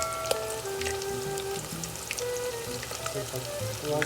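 Chicken skin seasoned with salt and pepper fries in hot oil, a steady crackling sizzle with sharp pops and faint tonal squeals, loud and close with no talking.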